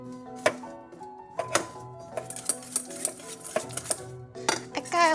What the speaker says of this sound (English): I gotta whisk the butter.